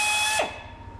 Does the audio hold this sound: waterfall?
no